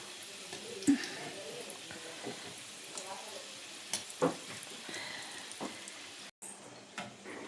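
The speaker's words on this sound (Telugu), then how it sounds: "వేసిన వెంటనే కాలిపోతున్నాయి నూనె చక్కగా కాలింది" Sweet lentil-filled kajjikayalu pastries deep-fry in hot oil, a steady close sizzle with scattered bubbling pops and an occasional clink of a utensil.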